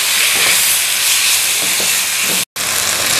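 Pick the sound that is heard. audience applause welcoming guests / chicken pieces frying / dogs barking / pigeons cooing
chicken pieces frying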